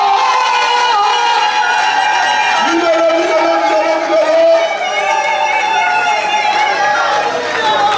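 Guests at a wedding celebration cheer and acclaim the newly married couple, a loud sustained crowd noise of voices and whoops, with a tonal sung or shouted line rising through the middle, continuous for the whole stretch.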